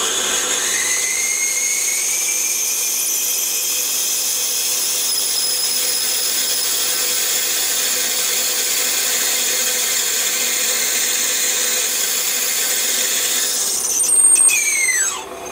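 A 6.8mm tapping drill whines steadily as it bores 15mm deep into metal, a high, continuous tone rising briefly near the end before winding down.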